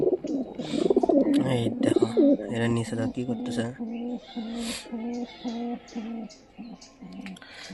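A pair of pigeons coos in a steady, rhythmic series of soft low coos, close by. A person speaks over the first few seconds.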